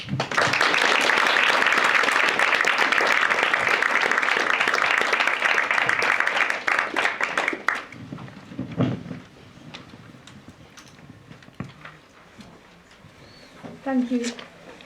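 An evening lecture audience claps to welcome a speaker to the stage: sustained, loud applause from many hands for several seconds that then drops away, leaving quieter room noise and a voice beginning to speak.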